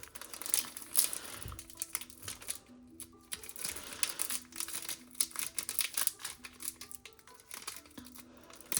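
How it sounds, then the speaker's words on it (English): Plastic trading card pack wrapper being crinkled and torn open, a dense run of close, scratchy crackles and rips with short pauses, no talking. "Why are they making these packs so hard to open?"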